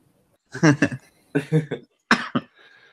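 Three clusters of rough, close coughs sound in succession, each burst made of a few quick hacking pulses with pauses between.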